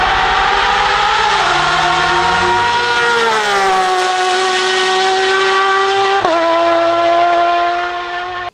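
Porsche GT3-style race car engine and exhaust under load, a loud continuous howling drone that climbs and shifts pitch with gear changes, a sharp break near the end as revs drop, heard alone without talk.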